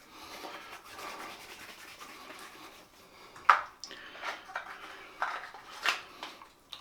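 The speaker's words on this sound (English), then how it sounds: "make sure my fingers are wet and give them another alum rub" Wet fingertips rub an alum block over freshly shaved skin, producing soft, close, intermittent squeaky strokes with a few sharper slick accents in an otherwise quiet setting.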